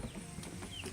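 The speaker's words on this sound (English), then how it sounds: "He's an Americana rooster." Soft, brief clucking from an Americana rooster, a few short calls over a faint steady background hum.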